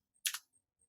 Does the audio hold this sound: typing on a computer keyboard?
yes